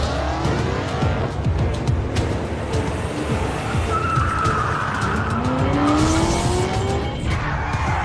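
A race car tested and declared fit for racing, its engine heating up, roars loudly and continuously while its tires skid and squeal in long sliding wails, with no talk.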